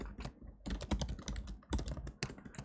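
Irregular bursts of clicky computer keyboard typing, close and fairly quiet, coming in quick clusters separated by short pauses.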